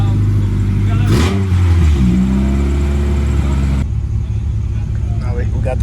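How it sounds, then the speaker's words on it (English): An Acura Integra engine idles with a steady low rumble while warming up, briefly revving around the second mark, while a person talks over it. "Now we're just letting the car warm up."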